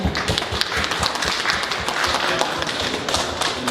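A crowd claps continuously for a few seconds, a dense, even patter of hands with no pauses.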